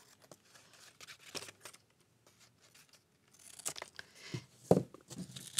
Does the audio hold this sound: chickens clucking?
no